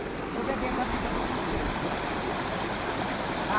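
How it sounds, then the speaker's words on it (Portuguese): A stream of clear water runs steadily down toward a waterfall in a rural valley in Tocantins, making a constant close rushing wash. People talk over it. "essa água aqui que desce para cachoeira"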